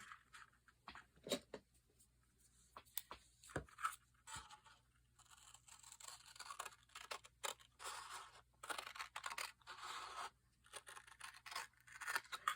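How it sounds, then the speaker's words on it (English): Paper is cut at a scored half-inch mark during a craft project, heard as faint, close snips and scraping rustles spread through the quiet with no talking. "I'm going to cut at that next 1/2 inch mark here."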